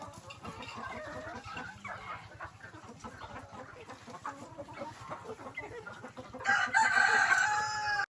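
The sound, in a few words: chickens clucking and rooster crowing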